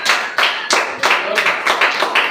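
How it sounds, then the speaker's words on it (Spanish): Several bursts of clapping from a church congregation, arriving in uneven waves with brief pauses, fairly loud and close, with some voices mixed in. "Brindelo fuerte el aplauso al Señor."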